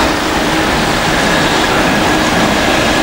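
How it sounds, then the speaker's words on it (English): Coal train hauled by Class 66 locomotive 66230 rolls past on the line around Banbury, Didcot and Oxford, a steady loud rumbling roar of wagons that stays close and unbroken throughout. "Well, that's come up with a coal train."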